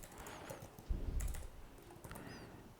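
Computer keyboard keys tapped while writing C# code, a few soft scattered keystrokes heard faintly at close range with no talking.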